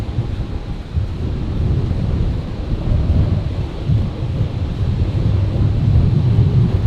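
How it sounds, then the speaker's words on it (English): Strong wind roars over the microphone at Brisbane Airport on a stormy night, a steady, loud, buffeting rumble with gusts that swell and fade, with rain-like hiss mixed in. "the wind has really picked up in the last few seconds"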